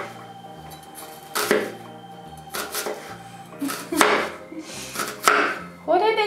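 Knife chopping a small onion on a cutting board in a home kitchen, irregular sharp chops in short bursts with quieter gaps, close and moderately loud, no talking.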